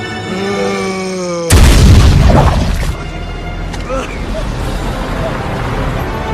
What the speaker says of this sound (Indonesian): sebuah granat mendarat tepat di kaki zombie tersebut